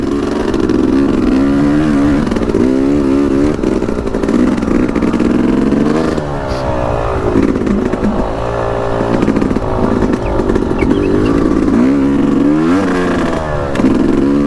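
A Yamaha YZ250X two-stroke dirt bike engine chugs at low revs on a climb, loud and close, with uneven revving surges and mechanical clatter throughout and no talk.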